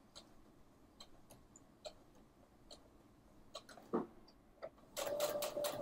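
Home sewing machine sewing a backstitch on a fabric cushion cover: faint sparse ticks at first, then a short, louder whirring burst of stitching near the end.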